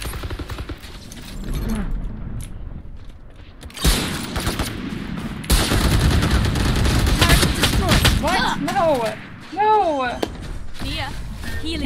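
Video game gunfire crackles in repeated sharp bursts and heavy volleys at close range, with thuds and chirping effects between shots.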